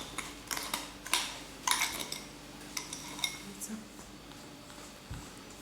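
A utensil mixes an egg yolk and sugar mixture for a chocolate cake in a bowl, giving scattered light clinks and scrapes at an irregular rhythm, fairly quiet and close.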